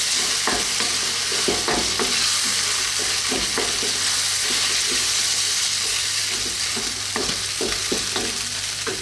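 A tuna cream pasta sauce with grated cheddar being stirred in a pan, a steady bubbling sizzle under rhythmic spoon scrapes and knocks against the pan, close and continuous.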